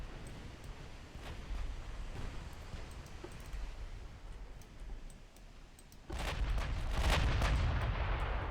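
Distant naval gunfire booms in the Ultimate Admiral Dreadnoughts naval battle game, with scattered muffled shots over a low rumble, then heavier overlapping salvos swell louder toward the end.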